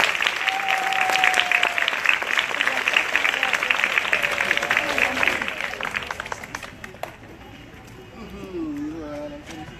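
A crowd at a flag-raising ceremony at a primary school in Yopougon claps and cheers loudly for the sector councillor, the applause gradually thinning out before voices take over near the end.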